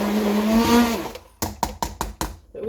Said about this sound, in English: And then I'm going to whisk that up.